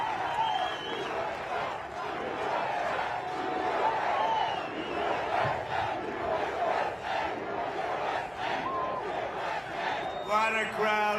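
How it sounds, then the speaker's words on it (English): A large crowd at a Trump rally in Iowa roars and cheers continuously, a loud, sustained mass of shouting voices with scattered clapping. "What a crowd"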